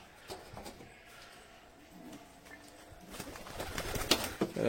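Pigeons in a loft at nightfall crowd back into their cage, giving soft cooing calls with faint scattered flutters that grow busier and louder toward the end.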